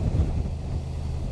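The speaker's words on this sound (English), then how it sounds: "A little windy coming down off this pass." Low, blustery wind buffets the microphone in a steady roar while riding a Honda Transalp 750 motorcycle down a mountain pass, with no voices present.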